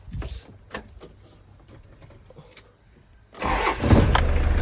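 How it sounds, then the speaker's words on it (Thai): A turbocharged car engine cranks and catches after a few seconds of faint rattling, then settles into a loud, steady rumble up close. "สตาร์ทเครื่องยนต์"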